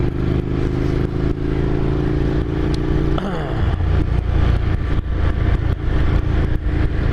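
Ducati Scrambler motorcycle with an 803 cc engine and aftermarket slip-on exhaust, a steady close engine drone with a gear change or throttle shift partway through, constant and loud throughout.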